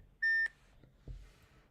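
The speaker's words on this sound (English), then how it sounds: "there was a loud ass beeping." A phone gives off one loud, sustained electronic beep lasting about a quarter second, followed by a few soft knocks and a faint thump in a quiet room.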